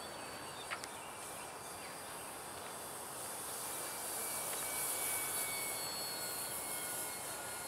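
Hobby King Spitfire MK5 model airplane flying with wheels and flaps down, a steady, fairly distant engine drone that swells slightly midway, alone without talk.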